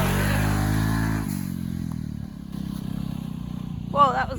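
The engine of a turbocharged Pioneer 500 side-by-side drones steadily and close by as it climbs a steep, rocky hill, its tone shifting and falling slightly partway through, with a short burst of voice near the end.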